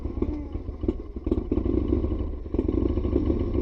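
A rare Ecosse Iconoclast V-twin motorcycle engine idles close by, a steady low thumping rumble with rhythmic mechanical clatter that grows slightly louder and fuller partway through, heard alone without talk.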